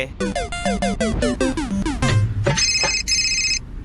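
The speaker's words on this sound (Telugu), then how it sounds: "ఫోన్ వస్తుంటే లిఫ్ట్ చేయట్లేదు" A mobile phone rings with a loud, close electronic ringtone, a quick run of bright melodic beeps followed by higher sustained tones. The call goes unanswered, and no voices are heard.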